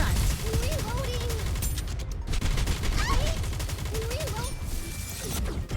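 Continuous dense gunfire rattles through a battle in Nikke: Goddess of Victory, a sustained barrage with short pitched voice-like chirps and effects layered over it, loud and unbroken throughout.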